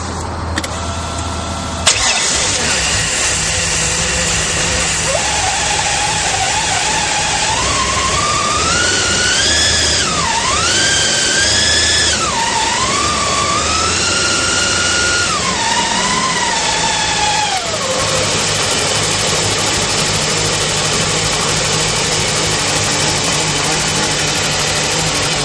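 A 2005 Malibu Response LXi ski boat on a lake cranks briefly and fires up, then settles into a steady, loud idle with a rising and falling whine on top, heard close and without talk.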